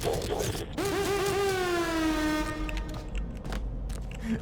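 A loud air-horn-like blast from a FNaF Security Breach Ruin game sequence, one long sustained tone that slides slightly downward and then fades, with game ambience around it.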